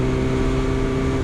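2021 BMW S1000R motorcycle engine idling and revving steadily with a strong low hum, close and continuous with no talk.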